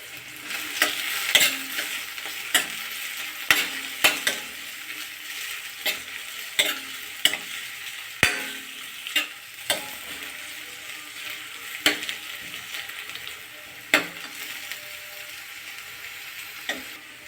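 Onions frying in oil for a tempering, a constant bright sizzle broken by regular sharp clacks of a spoon stirring against the pan roughly every second, close and alone.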